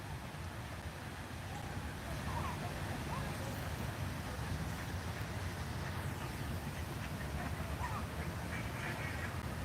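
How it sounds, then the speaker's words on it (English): Ducks quack in short scattered calls in the distance, faint over steady outdoor background noise, with no talking. "Some noisy ducks over there."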